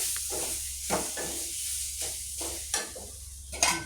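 Chili and turmeric powder sauté with spices in a pan, giving a soft continuous sizzle broken by several scraping stirs at close range, with no one speaking.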